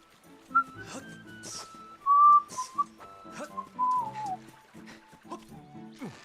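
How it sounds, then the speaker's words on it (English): Whistled melodic phrases in Zelda: Skyward Sword HD, a run of bright, clear tones rising and falling with short gaps, loud and close over soft game sounds. "I keep trying to, like, whistle run at the same time"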